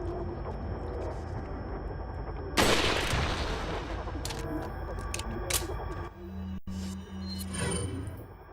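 Gunfire in Resident Evil 4 Wii Edition: a loud broadband blast near the middle, then scattered sharp shot transients and a low rumbling tone, all over steady game ambience with no talk.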